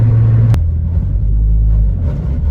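A 2007 Ford Focus ST engine while driving, a loud, deep, steady rumble from inside the car with a brief sharp click early on, close and continuous, no talking.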